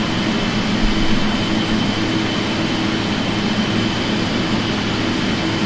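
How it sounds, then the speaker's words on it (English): Airbus A380 rolling down the runway in the Prepar3D flight simulator, a loud, steady broadband engine roar that rumbles on without pause, with no talking. "So A380 rolling down the runway."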